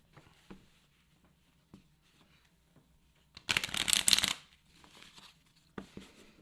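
Playing cards shuffled during a game of Wingspan, a single brisk riffling burst of about a second, loud and close, set between faint scattered taps and handling noises.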